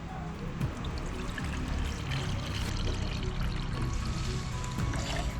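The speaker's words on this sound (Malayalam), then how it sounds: "പിന്നെ അപ്പം നമ്മൾ ഇതിലോട്ട് ഇച്ചിരി വെള്ളം ഒഴിക്കുവാണ്." Water pours into a container of fresh lemon juice, a soft continuous trickling splash heard close and fairly quiet throughout, with no voices.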